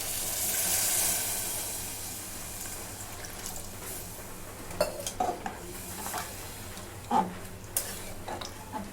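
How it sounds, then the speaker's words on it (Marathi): Water is poured into a hot pan of leftover-vegetable masala rice, giving a soft hissing sizzle at the start that fades into quiet bubbling, with a few light clinks of utensils later. "मी याच्यात पाणी ओतून घेते"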